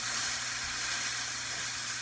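A burger patty cooks in a pan over low heat with a steady, even sizzle and hiss. The sound stays close and unbroken throughout, with no voices.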